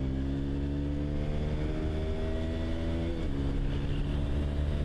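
A Honda CBR150R motorcycle accelerates under a rider on the road, its engine note climbing steadily, then dipping briefly at a gear change before rising again, steady and close with no talk.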